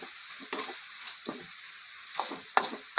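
Eel pieces dry-roast in a pan over a hissing sizzle, with a few quick, close scrapes of a spatula stirring them.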